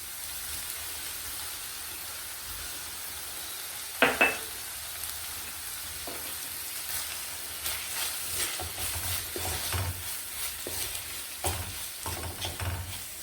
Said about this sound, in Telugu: ఇప్పుడు మనం పొడి చేసి పెట్టుకున్నాం కదా, పల్లీలు, వెల్లుల్లిపాయలు, ఉప్పు, కొంచెం కారం అన్నీ వేసి ఇప్పుడు ఈ పొడి వేసేసుకుందాం.